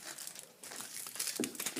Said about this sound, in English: you just take your piece of cardboard and just cover it in the tin foil